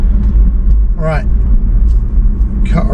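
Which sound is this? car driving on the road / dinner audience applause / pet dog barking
car driving on the road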